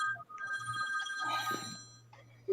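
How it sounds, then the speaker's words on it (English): A telephone rings in an office with steady electronic bell tones, a repeating trill running through most of the moment, fairly close with faint room noise. "I hear a phone ringing."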